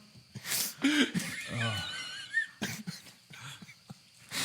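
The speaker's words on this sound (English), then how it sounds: "Hold on, the dog's barking." A dog barks a few times at close range in a home, in short scattered bursts mixed with nearby talking and breathing.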